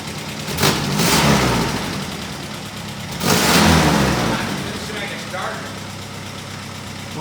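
A 1962 Jeep M170 ambulance engine cranks in two loud bursts, churning without catching, with a quieter rumbling stretch between and after.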